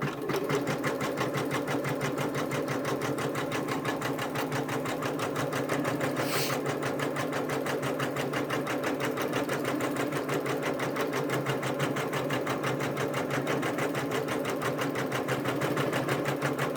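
Steady rapid needle chatter from a Janome embroidery sewing machine stitching a quilt-in-the-hoop applique, a dense even rhythm running continuously and fairly close throughout.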